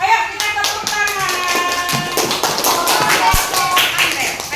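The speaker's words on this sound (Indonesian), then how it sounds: "Ayo kita tepuk tangan." A class of children claps hands together in a classroom, rapid and fairly loud, with rhythmic bursts and young voices mixed in with the clapping.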